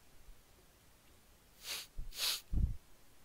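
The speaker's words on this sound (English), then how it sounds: "I got the sniffles" A person with a cold sniffles twice through the nose, then gives a short snort, each close and fairly soft against a quiet room.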